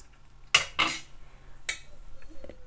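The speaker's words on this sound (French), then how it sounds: "Couper mon fil." Scissors snipping crochet yarn on a baby waistband project: two quick close metallic snips, then a third after a pause, with faint handling noise between.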